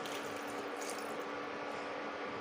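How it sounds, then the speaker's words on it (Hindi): Water poured steadily into a pot of fried mixed vegetables for soup, a continuous close splashing gush with no talk. "एबे आम तादे ऐड करवा पानी।"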